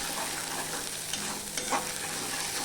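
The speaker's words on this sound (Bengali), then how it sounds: "এবার আদা আর লঙ্কাটা ভালো করে ফোড়ন হতে হবে" Ginger and green chili sputtering in hot oil as a tempering for a vegetarian sweet pumpkin leaf dish, a steady close sizzle with light stirring, no voices.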